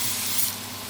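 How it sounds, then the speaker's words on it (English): Coconut oil cooking spray misted into a pan, a short bright hiss that fades quickly into a quieter background. "Tiny bit of coconut oil spray"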